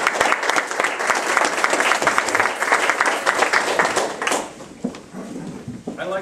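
An audience at a meeting claps for the organizers in a loud, dense round of applause that carries on for several seconds, then thins out into a few scattered claps and room noise.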